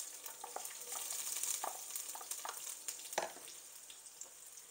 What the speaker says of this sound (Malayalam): നമുക്ക് അരിഞ്ഞു വെച്ചിരിക്കുന്ന വെളുത്തുള്ളി ചേർത്ത് കൊടുക്കാം.